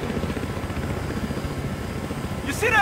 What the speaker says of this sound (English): You see that chopper?